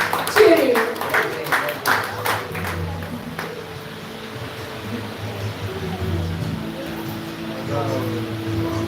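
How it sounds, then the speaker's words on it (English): Applause from the audience at a Namahatta gathering: a few seconds of clapping at the start fade into a quieter room where someone speaks. "Let's give her a round of applause."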